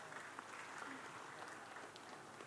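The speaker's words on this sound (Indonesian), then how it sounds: "minta tepuk tangan" Applause from a crowd at a pesantren anniversary and graduation stage show, a steady wash of clapping heard from a distance with some murmur of voices beneath it.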